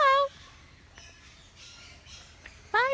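A parrot at Parrot Mountain in Pigeon Forge, Tennessee, gives two short, loud, harsh squawks, one at the start and one near the end. Quieter calls and faint background noise fill the gap between them.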